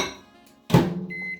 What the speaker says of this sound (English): If you find that your butter is still a bit too solid, what you can do is you can stick it in the microwave.